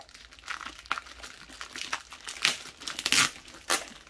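Plastic packaging around a diamond painting canvas crinkles and tears in quick irregular bursts, close and fairly loud, with no talking.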